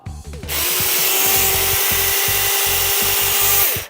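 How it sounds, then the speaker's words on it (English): A tiny mini chainsaw runs at a steady high-pitched motor whine with a rough, pulsing chatter underneath, starting abruptly after a brief rattle and holding loud and close for several seconds. "Look at how tiny this little chainsaw is."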